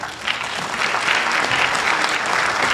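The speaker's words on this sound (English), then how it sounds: "please give these folks a round of applause" Loud, full applause fills a room at a Kendall County Republican Party candidate forum, swelling slightly after a brief start and holding as a thick, continuous clatter of clapping.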